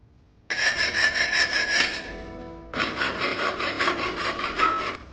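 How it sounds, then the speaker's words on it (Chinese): A saw cuts through the mirror screw hole boss on a motorcycle clutch lever, two long bursts of rapid, rasping back-and-forth strokes separated by a short pause, close and loud. "所以说把这个螺丝孔给它锯掉。"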